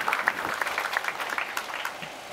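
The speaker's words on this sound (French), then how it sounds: "On peut applaudir Ludovic" An audience at a farmers' protest rally in Chécy, Loiret, clapping together, a dense burst of hand claps that is fairly close and gradually thins out toward the end.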